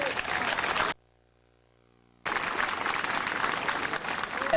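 Audience applause at an 8th grade promotion ceremony at Berkeley School, dense crowd clapping that breaks off to silence for over a second and then resumes just as full and steady.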